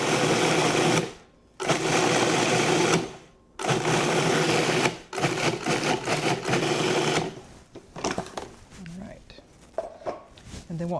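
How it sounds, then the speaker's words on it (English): A food processor pulses cocoa powder, vanilla protein powder and chia seeds in short bursts of loud whirring motor noise separated by brief pauses, followed by quieter clattering handling sounds. "1 tablespoon of chia seeds, and we'll pulse that together"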